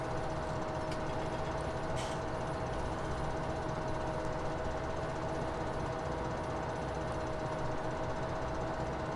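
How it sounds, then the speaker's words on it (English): A mower engine in a farming video game drones steadily with a rapid mechanical chatter and a constant tone, unbroken throughout with no talk. "So we are going to finish mowing this strip here."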